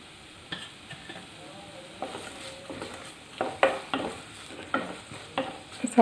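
Sliced onions saute with salt in a pan for Kerala-style chicken mappas, a soft sizzle under repeated scraping and clinking stirs that grow louder toward the end.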